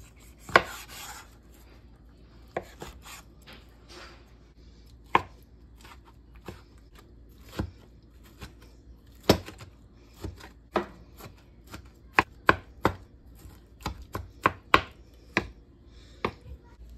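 A dulling knife chops homegrown vegetables on a cutting board for stewed okra, with sharp, separate close thunks at an irregular pace that quicken toward the end, set against a quiet background.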